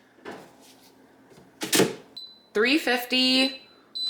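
An air fryer is loaded with a frozen chicken Alfredo burrito and set, with clattering handling noises followed by a run of loud electronic beeps and tones from the controls, after brief talk.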